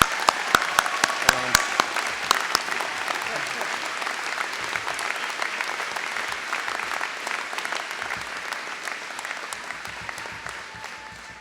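An audience at a graduate program graduation ceremony applauds the graduates, with steady, sustained clapping from a large crowd that tapers off gradually toward the end.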